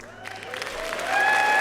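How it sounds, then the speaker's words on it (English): Audience clapping breaks out at a Labour party political speech, beginning as scattered claps and swelling into steady, fairly loud applause from a large crowd, with no speech over it. "I knew that would get a clap"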